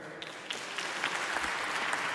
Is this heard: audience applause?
yes